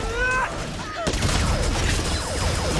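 Marco Polo's rapid gunfire in the mobile game Honor of Kings, loud dense volleys of shots that break out after a short lull and keep firing steadily, with faint in-game effects underneath.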